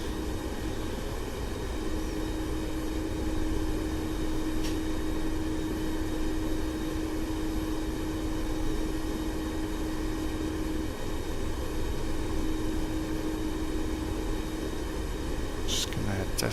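Steady engine drone of an aircraft climbing to gain altitude in the DCS flight simulator, a constant broadband roar with a faint sustained tone, loud and unchanging throughout with a few brief clicks.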